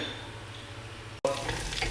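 Onions frying in a pan for chicken machboos, a steady soft sizzle that cuts out for an instant and returns brighter and louder, with clinks of stirring.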